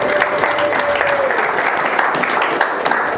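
A church congregation applauds, a dense burst of clapping from many hands that stays loud and steady for a few seconds, with a faint tone briefly audible at the start.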